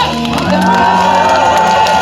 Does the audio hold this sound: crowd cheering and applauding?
yes